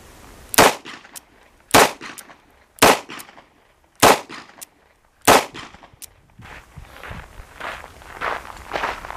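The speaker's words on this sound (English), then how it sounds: "how the 357 Magnum and how the 38 Special Plus P does in my hand" Taurus M605 Poly .357 revolver firing .38 Special +P and .357 Magnum rounds, five sharp, loud gunshots about a second apart, followed by a noisier stretch of fainter handling and rustling sounds.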